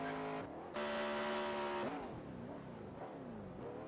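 A race car engine with a blown gear revs up and drops in pitch with sharp, uneven shifts and a strained mechanical whine, loud and close, with no talking.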